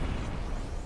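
Cannon fire from small cannons striking units in the strategy game Symphony of War, a dense, rumbling burst of explosive impact that fills the whole moment with no talk over it.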